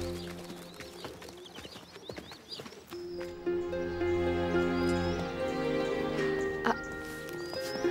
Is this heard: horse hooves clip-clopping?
yes